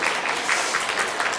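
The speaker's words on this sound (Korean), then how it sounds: "아니 박수까지 치실 건 없고" Brief burst of audience clapping in a room during a talk with singing, steady and moderately loud, many hands together for a second or so with no voice over it.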